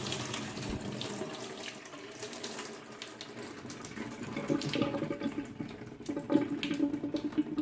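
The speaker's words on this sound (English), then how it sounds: "I'm washing the rice." Rice washed in a pot under running tap water, a steady close splashing and swirling stream with a few sloshes as the grains are agitated, no voices.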